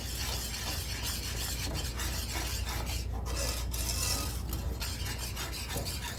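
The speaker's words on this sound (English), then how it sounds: "A small whisk, and I'm going to use that because I can tell I need to get that xanthan gum a little bit more whisked up in there" A small whisk scrapes and rubs steadily through a cream sauce thickened with xanthan gum, giving a continuous close, gritty swishing with no pauses.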